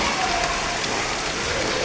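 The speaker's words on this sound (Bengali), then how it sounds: "কি পরিমাণ বৃষ্টি হচ্ছে দেখেন" Heavy, continuous rain pours down, a dense, steady hiss of drops hitting surfaces close around, loud and unbroken.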